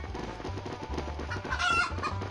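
Cartoonish chickens cluck in a busy run of short calls over a low game soundtrack in the Stickman Party mobile game, a brief crowing-like squawk rising near the end.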